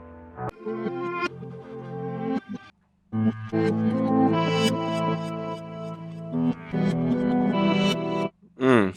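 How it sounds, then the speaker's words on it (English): Warped Afrobeat guitar samples auditioned in FL Studio, processed with distortion and chorus-like effects, play as bursts of plucked, bright, effected notes with short silent gaps between phrases. "Now these are the warped samples"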